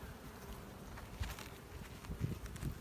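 Honeybees humming inside an opened hive during February hive care, a faint, continuous buzzing drone with small flickers of louder wingbeats and no voices.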